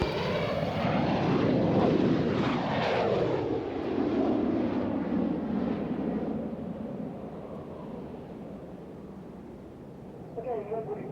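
An Aerostar aircraft taxis toward runway 21 at an airshow, its propeller engine droning loudly nearby with a sweeping, shifting tone that slowly fades as it moves off, while a voice talks over it.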